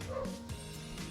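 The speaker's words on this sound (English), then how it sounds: "That's my dog." A dog gives a quick bark and a few yipping, whimpering sounds close by, all within about a second against a low indoor hum.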